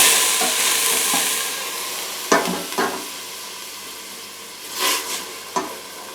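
Paneer cheese fries in a pan with a soft continuous sizzle and hiss, broken by a few sharp stirring scrapes and clinks, close and quiet, with no talking.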